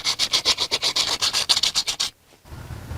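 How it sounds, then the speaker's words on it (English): Sandpaper rubs hard on an oxidized metal bicycle kickstand in about fourteen quick, rhythmic strokes up close, then stops, leaving a brief low rumble. "Next step is to sand it off to remove the oxidation."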